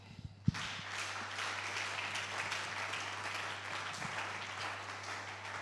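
A church congregation claps in praise of the Lord: one sharp thump, then a dense, sustained wash of applause that stays fairly even and moderately distant throughout.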